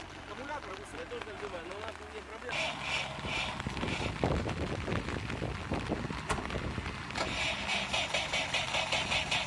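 An off-road vehicle engine starting on petrol in a slippery ravine, cranking then catching into a rough, pulsing idle and revving, with people talking loudly nearby throughout.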